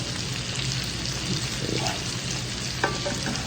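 Shrimp fry in a pan with a dense, constant crackling sizzle, loud and close, with a brief utensil clink near the end.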